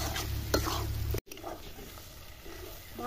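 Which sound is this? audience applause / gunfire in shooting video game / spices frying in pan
spices frying in pan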